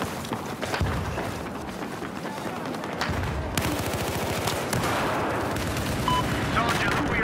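An AN-94 Abakan rifle fires in Battlefield 4, with loud rapid bursts of automatic gunfire that come close and repeat through the whole stretch.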